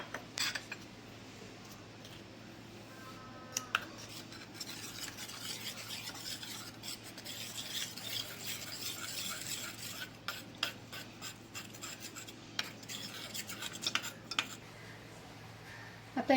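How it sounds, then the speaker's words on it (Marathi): A spoon stirs a cornflour and milk mixture in a bowl, giving faint repeated scraping and clinking against the sides over a quiet room hum, with no talk. "काढून ठेवलेलं दूध हे याच्यामध्ये ओतून आपण याचा घोळ करून घेऊया."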